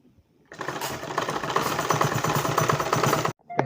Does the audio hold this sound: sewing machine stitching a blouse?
yes